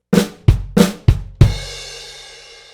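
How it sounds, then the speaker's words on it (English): Five sharp snare hits in a steady rhythm, each thickened by a quick grace stroke. The last hit rings out with a long, buzzy decay. "if you add flams to those snare drum notes, much fatter, has much more character"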